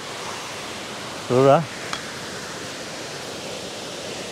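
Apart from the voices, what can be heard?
waterfall in Canada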